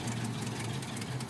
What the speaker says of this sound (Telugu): ఈ ఇంజిన్ మనం స్టాప్ చేయలేదు